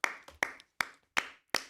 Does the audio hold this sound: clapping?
yes